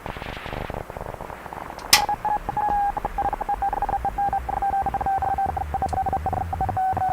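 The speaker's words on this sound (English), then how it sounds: "drifting down in pitch. It's probably the radio warming up." A Hammarlund SP-600 communications receiver emits a steady whistling tone that slowly drifts down in pitch as the set warms up, sitting above soft static crackle after a sharp click.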